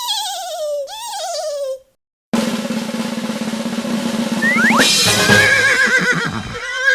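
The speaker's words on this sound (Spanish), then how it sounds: "¿Quién relincha? ¡Es el caballo Mingo!" A horse neighs twice in a loud, wavering whinny, then after a brief silence comes a longer whinny with rising and falling pitch over a steady background hum, close and clear.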